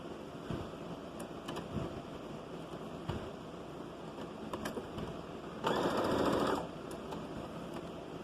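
Sewing machine stitching along the folded edge of children's overalls, a single short whirring run of about a second amid quiet room noise and soft handling clicks.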